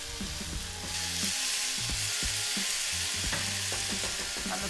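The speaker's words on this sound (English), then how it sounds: "We've turned it up high so we can almost sear the meat really before cooking it" Chicken and spices sear in a pan over high heat, giving a loud constant sizzle with repeated scraping and knocking of a utensil as the meat is stirred, no voices.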